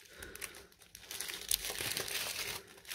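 Plastic bags crinkle and rustle continuously while a small package is unboxed, with a louder crumpling burst midway. The sound is close and moderately loud.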